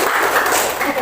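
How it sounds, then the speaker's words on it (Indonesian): Classroom applause at a senior high school, a short burst of many hands clapping steadily at close range, with a faint murmur of voices mixed in. "tepuk tangan."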